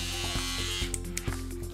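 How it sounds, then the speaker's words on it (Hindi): A Daling nose trimmer from a 3-in-1 men's grooming kit runs with a continuous close electric buzz, with a few faint clicks and rattles over the steady motor hum. "आप इस तरह ये नोज़ ट्रिमर लगा सकते हैं और ऑन कर सकते हैं, ये मैंने अभी ऑन किया"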